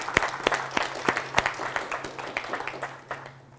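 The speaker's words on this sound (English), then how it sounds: "give her a round of applause before I give her a bio." An audience gives a guest speaker a brief round of applause, with a burst of scattered handclaps that thins out toward the end.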